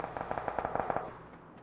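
Distant automatic gunfire in the battle royale game PUBG: a quick rhythmic burst of about ten muffled shots, moderately faint, fading into quiet.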